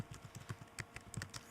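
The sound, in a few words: typing on a computer keyboard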